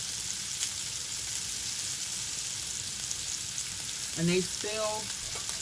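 Lamb chops sizzle and fry as they brown in a pan, a steady, soft crackling hiss that runs throughout, and a voice speaks briefly near the end.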